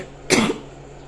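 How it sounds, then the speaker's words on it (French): A single harsh, rasping cough bursts out close by, brief and loud against a quiet room. "toujours la toux qui est comme une casserole"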